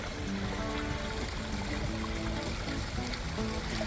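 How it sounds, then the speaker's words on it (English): A small waterfall in an Irish garden flows gently, a continuous soft trickle and burble of water, steady and close without pauses. "I believe this is an enchanted waterfall."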